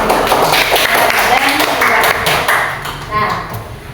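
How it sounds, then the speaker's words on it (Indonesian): A class of students claps their hands together in a classroom, a steady busy patter of many hands that carries on under the teacher's voice and chatter before thinning out near the end. "Kita beri tepuk tangan untuk jawaban dari si"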